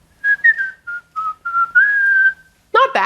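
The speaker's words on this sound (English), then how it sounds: "I'm terrible at whistling." A person whistles a short, wavering tune in several separate phrases, close and clear, followed by a brief burst of speech at the end.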